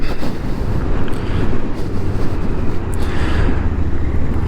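Royal Enfield Interceptor motorcycle being ridden during break-in on a road through vineyards, a steady low engine rumble and heavy wind buffeting on the microphone, constant and loud with no talk.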